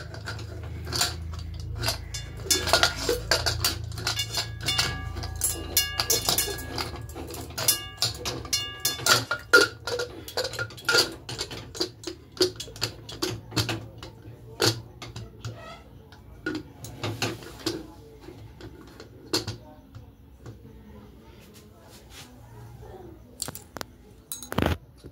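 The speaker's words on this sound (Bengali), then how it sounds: "দেখো প্রেশার কুকারের এটা আটকে নিলাম, 1 হাত দিয়ে আটকিয়েছি।" A pressure cooker lid is fastened onto a pot of tadka dal in a home kitchen. Sharp metallic clicks and clinks scatter irregularly over about twenty-five seconds, with quieter gaps between them.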